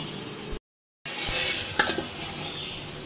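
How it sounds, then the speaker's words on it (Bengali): Spices and tomato sizzle and fry in a pan for coriander greens, with stirring scrapes over a steady hiss, broken by a brief silent gap. "ধনিয়া শাক রান্না করার জন্য মশলা কষাচ্ছি।"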